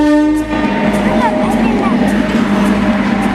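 A freight train rolls past with a steady, loud rumble and sustained horn-like tones throughout, while faint voices sound underneath.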